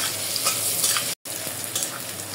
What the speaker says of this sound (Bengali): আমার পেঁয়াজটা একদম ব্রাউন কালার করে নেব।